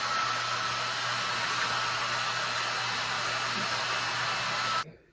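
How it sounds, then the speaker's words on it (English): A hair dryer blowing on natural hair set in foam rollers, a steady, loud whooshing hiss close by, then it switches off abruptly near the end. "I'm gonna do the unthinkable, and I'm gonna use a dryer."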